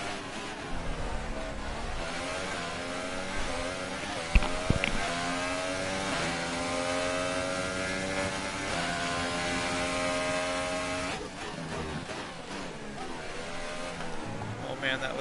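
A Formula 1 car in the F1 2018 video game at Monaco drones with a loud, steady engine note whose pitch climbs and drops through gear changes, with one brief knock partway through and a voice talking over it.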